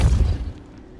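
Depulso force spell cast in Hogwarts Legacy, a single heavy booming blast that hits hard at once and then fades into a low rumbling tail.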